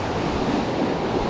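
Sea waves wash onto an island shore on a rainy day, a steady broadband rush of surf with wind noise on the microphone, continuous and fairly close, with no voices.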